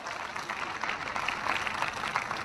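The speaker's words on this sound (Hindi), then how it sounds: "दोस्तों ऐसे महान शख्सियत के लिए जबरदस्त तालियां" Applause from an audience at a Safe Shop motivational event in India, a continuous diffuse wash of clapping, moderately distant and fairly even throughout.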